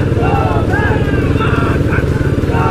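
Motorcycles at an anti-drug bike rally in Bhaderwah, with engines droning and shifting pitch close by under steady talk.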